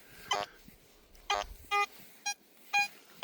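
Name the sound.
GoldHunter Frogman B75 metal detector target tone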